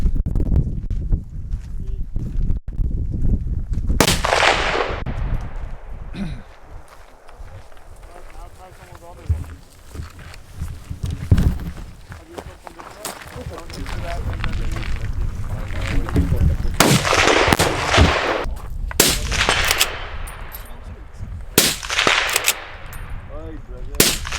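Gunfire at an outdoor shooting range in Sweden, heard as several loud, sharp reports spread through the clip, with voices talking in between and under the shots.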